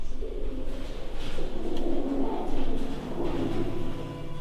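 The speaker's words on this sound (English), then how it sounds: "That's the big bird that's been killing all the other birds." A pigeon or dove coos in a low, repeated, throaty rhythm, fairly close and steady throughout, with no voices.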